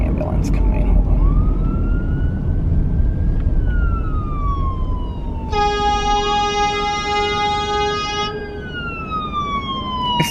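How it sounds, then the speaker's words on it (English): An ambulance siren wails past on a busy road, its rising and falling tones sweeping up and down over steady traffic rumble, then a piercing steady tone cuts in briefly before the wail resumes. "There's an ambulance coming."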